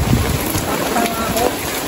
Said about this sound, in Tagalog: Ito, umulan na naman.